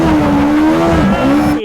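A kei truck fitted with a Yamaha FJ1200 motorcycle engine screams loudly close by at high revs, its pitch dropping briefly at a sequential gear shift before climbing again.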